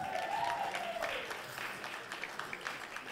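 Applause and cheering from an audience at a Meat Loaf tribute show, a dense clapping patter with a whistle or whoop at the start, fairly faint and thinning out over three seconds.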